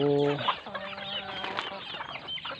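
A small backyard flock of chickens clucks in overlapping calls, moderately loud and close, with a longer tonal call at the start.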